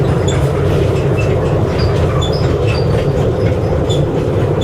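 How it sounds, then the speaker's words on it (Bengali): An amusement park sky train rolls along its track with a steady loud rumble and clatter, faint squeals and clicks scattered over the continuous running noise. "আমরা কিন্তু এখন পদ্মা সেতুর উপর দিয়ে যাচ্ছি স্কাই ট্রেনে করে"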